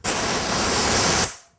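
Compressed air blasting from a shop air hose on a hose reel: a loud, steady hiss lasting over a second, then cutting off sharply and tailing away.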